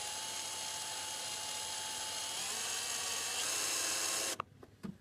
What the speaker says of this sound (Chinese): 这个上次我拆了也拆不下来，打滑了，时间长了，直接有这个钻头插进去